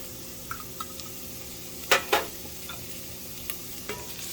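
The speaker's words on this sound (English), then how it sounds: "And we're just going to saute this for a minute," Smashed garlic sautés in a pan with a steady, soft sizzle. A couple of sharper spoon scrapes and stirs break through the hiss midway.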